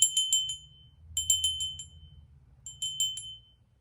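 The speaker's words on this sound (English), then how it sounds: "art glass bells, they have a pretty tink tink" Fenton art glass bell, a tourist piece, ringing in three separate bursts of bright, delicate tinkling strikes, clear and close, with low background rumble and no talk.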